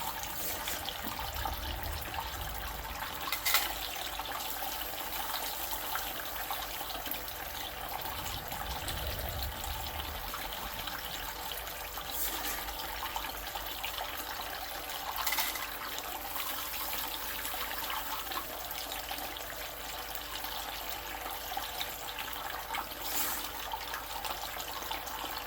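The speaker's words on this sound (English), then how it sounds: "I believe this is the only pressurized piece of gold prospecting equipment on the market, at least for the hobbyist field" Water rushes steadily through pressurized hobbyist gold prospecting equipment outdoors in winter, a continuous hissing, splashing flow with a few brief knocks over it.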